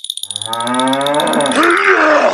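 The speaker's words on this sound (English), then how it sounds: "Oh, cow!" A cow lets out a long, loud moo close by on a farm, opening with a quick pulsed onset and then swelling into a rough, sustained bellow.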